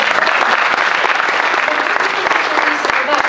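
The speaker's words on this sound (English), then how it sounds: "I think we should applaud that one extra." A conference audience applauds after a talk on future mobility, dense steady clapping from many hands filling the room, loud and continuous throughout.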